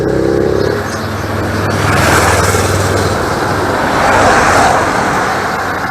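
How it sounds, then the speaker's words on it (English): Two motorbikes passing by on a road outdoors, their engine roar swelling and fading in two broad waves, fairly loud and close, with no talk over them. "Oh look, two gentlemen on motorbikes, how wonderful."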